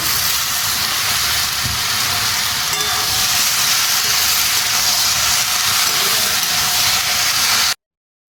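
Malabar spinach stalks cooking with a little salt in a covered pan for a vegetable labra, a steady, loud sizzling hiss that holds evenly for several seconds and then stops abruptly.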